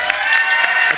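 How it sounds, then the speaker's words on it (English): An audience breaks into brief, dense applause and cheering at a Deadman Spring finale event, a short loud burst of clapping with crowd noise. "A round of applause"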